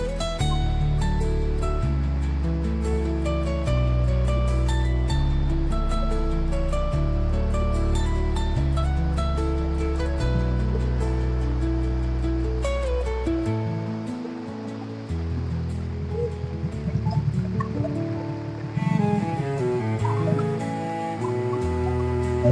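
Floodwater rushes through a large roadside pit and culverts during heavy monsoon rain in Konkan, a continuous roaring, churning flow with a deep rumble, loud and close throughout.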